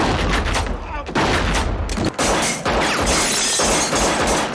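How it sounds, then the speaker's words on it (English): Heavy gunfire in the film LA Confidential, a dense, loud barrage of rapid shots with shattering glass crashing in, continuous for the whole stretch, with a voice faintly under the din. "they're burning through a lot of ammo"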